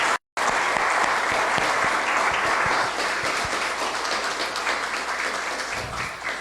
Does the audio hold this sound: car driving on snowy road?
no